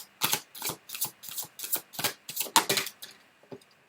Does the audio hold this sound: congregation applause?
no